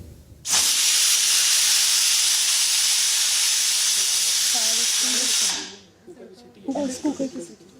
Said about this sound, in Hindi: कुकर की सीटी।